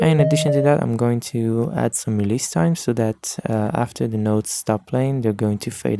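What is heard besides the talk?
No distinct noise like a dog, phone or traffic.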